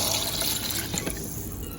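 Water is poured into a cooking pot for a Jamaican salt mackerel rundown, a brief close, bubbling splash and gurgle of liquid filling the vessel, heard alone without talk.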